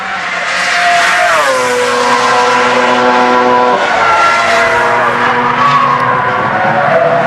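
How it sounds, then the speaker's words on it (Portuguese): Formula 1 cars scream at high revs during qualifying for the 2006 San Marino Grand Prix, loud and continuous, with engine pitch rising and falling through gear changes as the cars accelerate and pass. "o Jason Button é o primeiro que está acelerando para valer"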